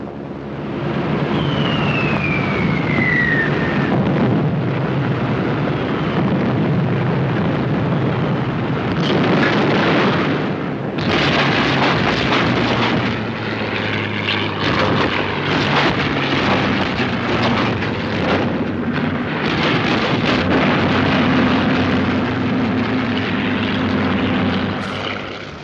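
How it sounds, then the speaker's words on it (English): Propeller aircraft drone steadily in archival World War II film of the North African air war, a continuous loud engine roar with a descending whistle early on and heavier blasts and rumbles mixed in. "bombers, fighters, and tank busters from the air"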